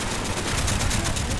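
Machine gun fire in Call of Duty: Black Ops, a rapid, continuous stream of loud, closely spaced shots with a steady rhythm that fills the whole moment.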